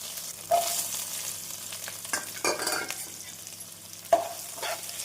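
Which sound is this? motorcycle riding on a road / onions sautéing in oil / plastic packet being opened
onions sautéing in oil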